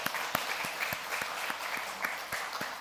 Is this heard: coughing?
no